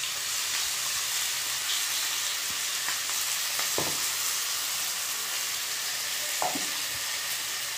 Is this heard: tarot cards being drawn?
no